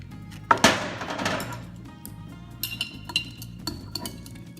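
A spoon stirs a Michelada mix of seasonings, salt and soy sauce in a glass, giving a sharp clink followed by a swirling rattle and a few lighter taps, close and alone.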